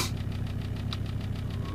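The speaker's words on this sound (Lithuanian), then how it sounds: "Laikyti variklį 10 minučių užvedus mažiausiai." A car engine idles at operating temperature while a leaking radiator is treated, giving a steady low rumble with a soft, even pulsing throb that continues throughout.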